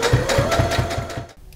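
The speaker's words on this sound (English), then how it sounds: "you're going to sew all the way around the skirt, but don't come back to your starting point" A sewing machine stitching around the edge of a baby skirt, a fast, even run of mechanical needle thumps lasting over a second before stopping abruptly.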